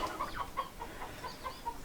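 Baby chicks give repeated high, thin cheeps in quick succession, close by and fairly soft, with no voices.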